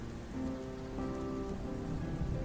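Steady rain falls on a surface in a continuous, even wash of patter with no voices, holding a constant level throughout.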